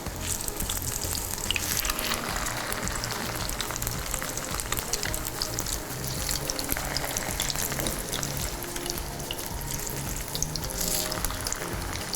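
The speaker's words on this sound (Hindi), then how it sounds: "बस आपने इसको सिर्फ फ्राई करना है" Chicken tikka cutlets frying in a pan make a loud, dense, steady sizzle that crackles close up for the whole stretch, with occasional faint clinks and no speech.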